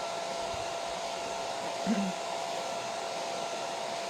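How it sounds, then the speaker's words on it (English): A hair dryer blows in a steady, even whoosh from start to finish, close by, with a faint low bump partway through, drying chalk-style paint on an upcycled stool. "Just hit it with the hairdryer, have another go, do another coat."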